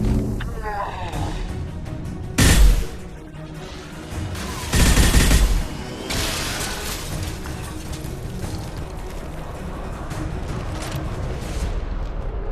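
Gunfire in the Mass Effect 2 video game, with heavy bursts of shots and impacts rising twice over a continuous battle din, loud and close.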